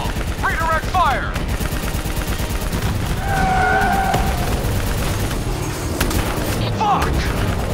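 Rapid gunfire and explosive bursts roar continuously in a Call of Duty: Black Ops 3 campaign battle, loud and dense with whizzing tones, while voices shout over the combat.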